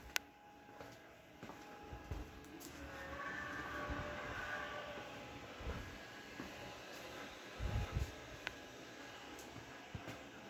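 Digital model-train sounds play through a speaker when triggered from a wireless remote, producing faint rolling rail-car noise with a few soft clunks at low volume.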